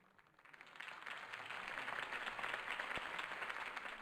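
Crowd applause in the Batman Telltale video game, broad steady clapping that swells from quiet to full after about half a second and holds evenly throughout.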